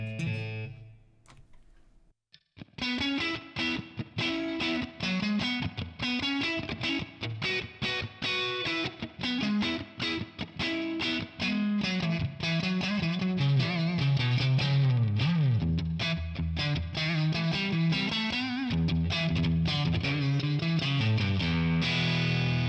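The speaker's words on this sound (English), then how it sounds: "Let's add some reverb, please." Electric guitar run through a Tonex ONE amp model with added reverb, a long, dense passage of distorted chords and single-note lines after a brief quiet start, ringing out continuously.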